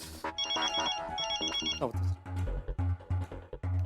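A phone ringtone plays a repeated two-part electronic melody, close and prominent, as a call comes in from the office in a comedy sitcom; rhythmic music beats and background thumps continue underneath.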